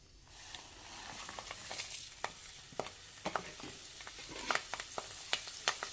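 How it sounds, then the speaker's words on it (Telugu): Garlic, cumin, mustard seeds, dried red chillies and curry leaves fry in hot oil, giving a soft steady sizzle scattered with sharp crackles and pops that grow more frequent toward the end, heard up close. "వెల్లుల్లి జీలకర్ర ఎండుమిర్చి కరివేపాకు ఇప్పుడైతే ఆయిల్ వేడెక్కింది ఇవన్నీ వేస్తున్నానండి"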